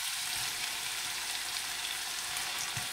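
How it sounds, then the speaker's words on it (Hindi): Chopped tomatoes frying in a pan while cooking keema-stuffed bell peppers, giving a steady, close sizzle with a soft crackle throughout and no talking. "थोड़ा सा भूनने के बाद आप इसमें कटे हुए टमाटर डाल दें"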